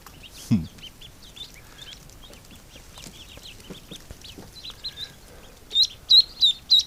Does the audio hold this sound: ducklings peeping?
yes